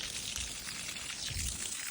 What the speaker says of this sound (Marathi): आणि पाणी घालतोय.